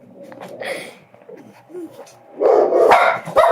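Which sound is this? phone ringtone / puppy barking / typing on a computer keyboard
puppy barking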